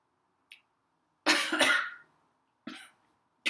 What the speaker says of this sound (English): And then have a coughing fit.